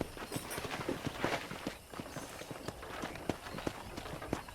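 Horse hooves clip-clopping at a steady walking rhythm on a ranch in Red Dead Redemption, close and continuous under faint background ambience.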